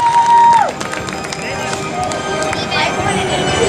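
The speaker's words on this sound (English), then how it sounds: "Come on up to the stage with a round of applause." A crowd at a Six Flags New England Fright Fest freakshow stage breaks into steady applause and cheering after a brief tone, with a busy, roaring din of clapping and voices that carries on throughout.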